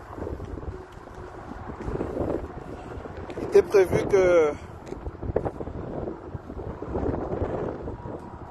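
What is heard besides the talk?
wind blowing outdoors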